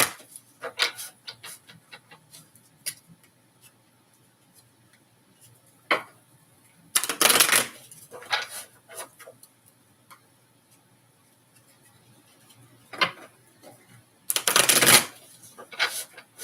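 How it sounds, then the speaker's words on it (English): Tarot cards are shuffled close to the microphone in sharp riffling bursts and scattered ticking card taps, with three longer shuffles standing out amid quieter pauses. "we're going to give 3 shuffles so I can get a little clearer on this"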